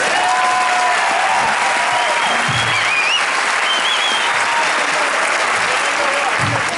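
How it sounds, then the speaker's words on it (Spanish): Sustained audience applause from a crowd at a success-story talk, loud and steady throughout, with a few faint voices and whistles rising through the clapping. "Y hoy yo quiero que ustedes me regalen un aplauso por eso"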